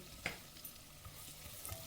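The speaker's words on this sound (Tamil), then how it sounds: "அது நல்லா காஞ்சோடனே ஒரு 2 வெங்காயம் நறுக்கி வச்சதை சேர்த்து நல்லா பொன்னிறமாக வதக்கிக்கிடணுங்க." Two chopped onions frying and being stirred in hot oil in a pot for prawn biryani, a soft steady sizzle with a few light stirring knocks, close and fairly quiet, with no talk.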